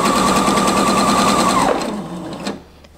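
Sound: sewing machine sewing a regular straight stitch

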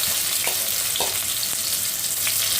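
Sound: sliced onions frying in tempered oil

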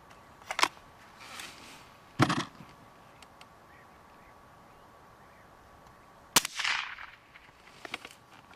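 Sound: GAMO Socom 1250 air rifle shot, 5.5 calibre

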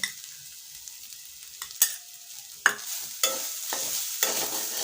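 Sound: grated coconut being stir-fried in ghee

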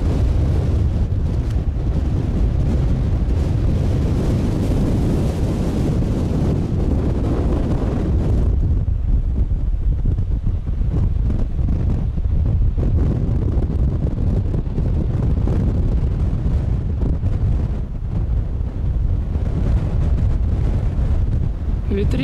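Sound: strong wind

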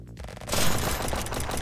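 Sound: pistol gunfire in a video game

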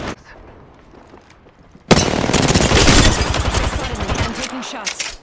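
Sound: gunfire in the video game Apex Legends

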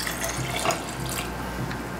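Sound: whiskey being poured into a mason jar

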